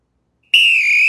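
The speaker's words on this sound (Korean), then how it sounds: "호루라기 소리와 함께 1라운드 시작하겠습니다" A single shrill whistle blast starting a round of an arm wrestling competition sounds after a moment of silence, loud and steady for about half a second before cutting off.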